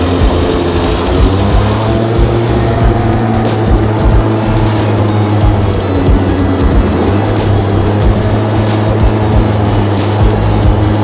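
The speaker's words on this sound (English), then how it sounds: "I'm driving carts at the most famous intersection" Go-karts drive through a busy Tokyo intersection amid city traffic, giving a loud continuous engine drone and road rumble that stays dense and steady throughout, with no speech.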